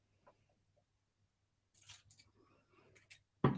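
Gold foil being cut with scissors, a few crisp close snips and crinkles in short bursts, otherwise quiet.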